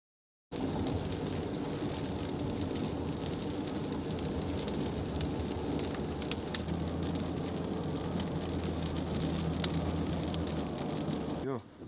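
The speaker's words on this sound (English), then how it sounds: "Rainy" Rain falls in Atlanta, a dense continuous hiss with scattered drop ticks, steady and fairly loud for the whole stretch, with a low rumble beneath it.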